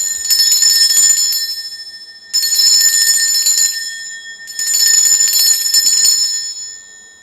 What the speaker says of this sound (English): I'm going to ring a bell here.